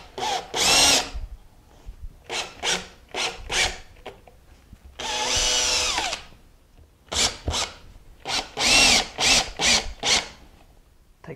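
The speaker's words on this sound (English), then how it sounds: "Take my drill with my depth stop and drill through the pilot holes down" A power drill with a depth stop whirs in repeated short bursts, drilling pilot holes in wood, with a few longer sustained runs, close and loud with brief pauses between them.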